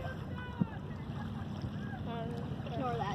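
Faint beach ambience with wind noise and distant, indistinct voices of other people in the background, a low steady wash with one short thump near the start.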